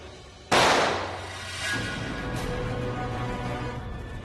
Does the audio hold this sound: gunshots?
yes